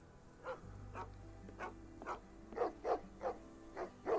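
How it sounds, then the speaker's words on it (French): Two dogs bark repeatedly in a Sherlock Holmes: The Awakened game scene, the barks growing louder and quicker over a steady low hum, heard alone without talk. "un chien en haut. Ah bah ouais, 2 chiens."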